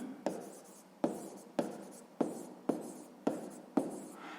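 Handwriting on paper while working a sixth-grade math exercise: seven or eight distinct pen strokes, each starting with a sharp scratch and trailing off, close and clear with no talking.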